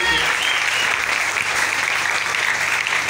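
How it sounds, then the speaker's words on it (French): A church congregation gives a dense, steady round of applause for the Lord Jesus, loud and continuous throughout with no talking over it. "Est-ce qu'on peut acclamer pour le Seigneur Jésus?"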